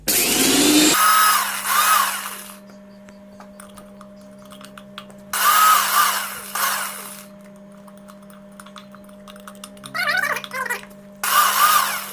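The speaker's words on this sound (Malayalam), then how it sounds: "അപ്പോൾ ആദ്യം നമുക്ക് ഈ വറ്റൽമുളക് ഒന്ന് പൊടിച്ചെടുക്കാം." Electric mixer grinder grinding dried red chillies, whirring loudly in several short bursts of a few seconds each, separated by quiet pauses with a steady low hum in the background.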